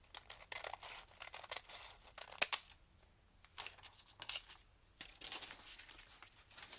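Scissors cut paper for a wrap-around journal folio, in a series of close, soft snips and crinkles with short pauses between them.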